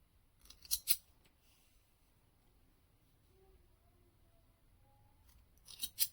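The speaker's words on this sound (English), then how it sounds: "And then you can just cut your loops." Scissors snip through yarn loops for pink and yellow crochet tassels, a pair of quick crisp cuts near the start and another pair near the end, close and clear over a quiet background.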